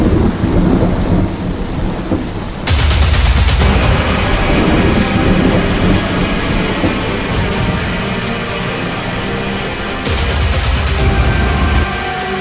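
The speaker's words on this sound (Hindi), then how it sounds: "देश के कई हिस्सों में मूसलाधार बारिश हो रही है" Heavy monsoon downpour with rolling thunder during flooding in India, a dense steady roar of rain broken by two loud thunder crashes, one early and one near the end, with no voices.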